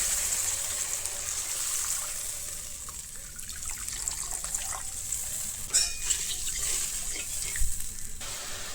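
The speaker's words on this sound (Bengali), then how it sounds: "এরপরে দিয়ে দেবো জল" Water pours into a cooking pan holding fish and mustard paste for a curry, with a continuous splashing gush and some bubbling close by.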